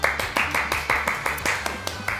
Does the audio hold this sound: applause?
yes